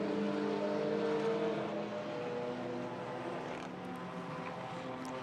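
V8 Holden Commodore race cars sweep through turn six onto the straight, a steady layered engine drone that eases slightly as they move off, with no voices over it.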